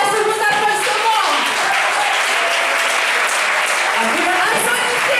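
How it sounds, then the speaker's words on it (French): A school audience gives dense, sustained applause for a lycée team at a media and journalism prize event, a loud, even wash of clapping with a faint voice over it at the start. "Les vipères, sous vos applaudissements."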